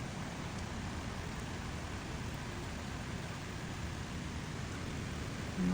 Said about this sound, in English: right now it's like light rain.